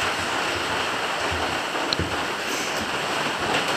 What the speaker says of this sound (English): the weather is rainy and windy out there